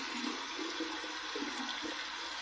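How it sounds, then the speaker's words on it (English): Cold tap water runs steadily over an alum block at a sink, a continuous rushing splash with no voices. "let's run this under some cold water"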